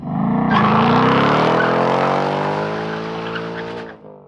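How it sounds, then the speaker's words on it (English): A Toyota 5-liter V8 rated at 480 horsepower revs loudly and close up as the accelerator is pressed, its harmonic roar rising in pitch for a few seconds before dropping off abruptly. "The Toyota V8, 5 liters, 480 horsepower, 563 Newton meters of torque, 8 cylinders firing in a sequence that produces one of the most iconic sounds in automotive history"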